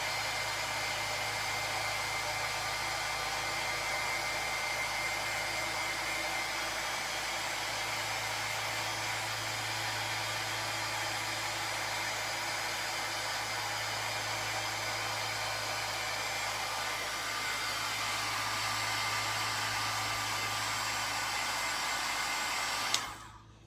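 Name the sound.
heat tool embossing a card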